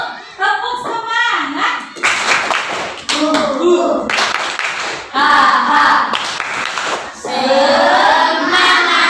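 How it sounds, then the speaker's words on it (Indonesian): Children in a classroom do a rhythmic spirit clap, tepuk semangat, in loud patterned bursts of claps broken by short pauses, with young voices chanting and shouting along between and over the clapping. "Tepuk semangat."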